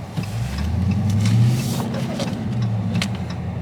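A 2022 Dodge Charger Scatpack Widebody drives through a blizzard, its engine a steady low rumble from inside the cabin with road and wind noise, rising slightly mid-way, and faint scattered clicks.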